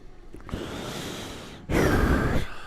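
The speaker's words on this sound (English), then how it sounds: "You guys are going to hear a lot of breathing." Heavy breathing close to the microphone: two long, loud, rushing exhales in sequence, with the second louder and more forceful.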